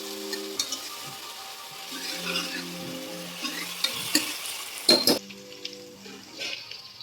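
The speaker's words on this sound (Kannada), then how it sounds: "ಈ ಪೇಸ್ಟಿನ ಹಸಿ ವಾಸನೆ ಹೋಗೋ ತನಕ ನಾವು ಫ್ರೈ ಮಾಡಬೇಕು." Masala paste frying with chopped onions in a pan for egg biryani, a steady close sizzle with intermittent stirring scrapes and a louder clatter near the end, no talking.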